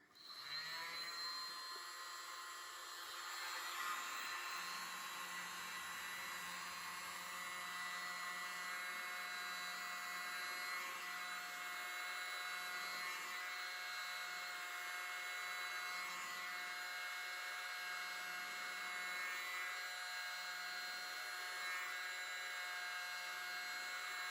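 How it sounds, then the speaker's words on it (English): A mini blower whirs steadily over an acrylic paint pour, a constant high, airy hum with a faint low tone that comes and goes, close and alone without talk. "use my mini blower"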